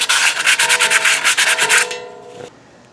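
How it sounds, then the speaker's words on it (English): Sandpaper rubbing back and forth over rusty brake caliper parts on a Honda Pilot, a close, loud run of quick scraping strokes that stops abruptly near the end, leaving faint handling noise. "So I'm just going to go ahead around with this with some sandpaper and clean this up as well."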